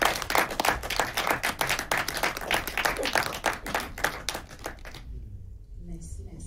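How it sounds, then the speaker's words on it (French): Audience applause at a Montreal film festival panel on minority cinema in Canada, a dense burst of clapping that lasts about five seconds and then fades away, with a little room noise and faint voices at the end. "Une belle main d'applaudissements pour les encourager."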